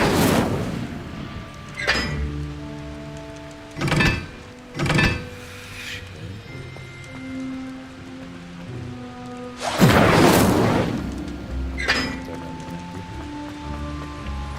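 Incendio fire spells cast in the video game Hogwarts Legacy: several sharp, noisy bursts of flame erupt at irregular intervals, the loudest near the end, over quiet tonal game music and ambience.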